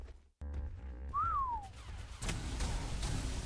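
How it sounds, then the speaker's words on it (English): A player whistles in ARK to call a tamed creature: a single clear rising-then-falling whistle about half a second long, heard over steady game background noise. "So we'll whistle him in."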